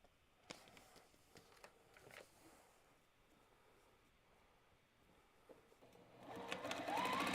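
A home sewing machine stitches fabric in short, faint bursts of rapid needle clatter separated by pauses, building to a busier, louder run near the end.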